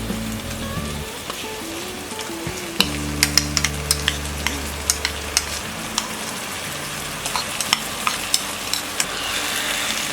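Soaked kodo millet is stirred in a pan, with a spoon scraping and soft wet sizzling. A cooker-like hum runs through the first half, and small clinks repeat steadily near the mic.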